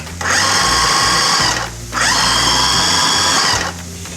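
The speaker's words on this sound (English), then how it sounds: "Just give them a few pulses until they grind up and they look like ground beef." A food processor pulses mushrooms into a mince resembling ground beef, with two long, loud, steady motor whirs separated by a brief break, close and alone without speech.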